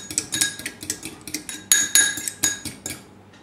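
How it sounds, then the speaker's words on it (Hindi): A fork clinks and scrapes rhythmically against a bowl, about a dozen quick metallic taps while mixing green chilies and parsley with other ingredients, close and clear with no talking. "अब इसको हम फोर्क के साथ अच्छी तरह से मिक्स कर लेंगे।"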